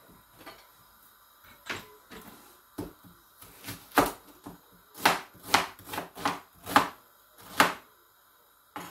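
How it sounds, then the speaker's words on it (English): A knife chops onions on a cutting board in a string of close, sharp knocks, sparse at first and then coming in a quicker, steadier rhythm, with quiet gaps between strokes. "let's start cutting these onions"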